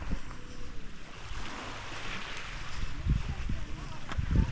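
Sea waves wash onto the shore at dusk on Burias Island, a soft continuous surf with occasional nearer splashes, while people talk over it.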